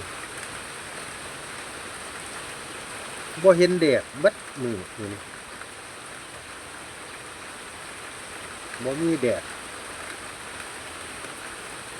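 Heavy rain from Storm Bualoi pours in a steady, even hiss throughout, with a voice speaking in two short bursts over it.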